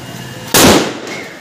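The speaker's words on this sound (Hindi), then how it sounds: "पीछे से और एक धमाका" A single sharp firecracker bang bursts out mid-clip, loud and close, then decays into a brief noisy tail over low background hum.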